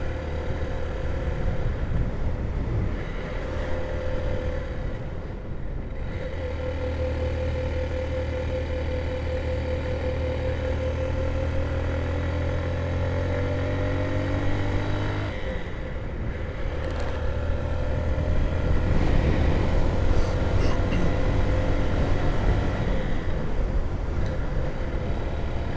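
A Honda CB125F motorcycle on the move, its small engine droning steadily with pitch steps as the rider changes gear, wind noise and road rush sitting over a continuous mid-level hum.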